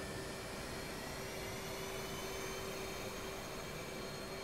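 A jet engine spools up on an aircraft carrier deck in DCS World, a steady loud whining roar with a sustained tonal hum, continuous and unbroken throughout.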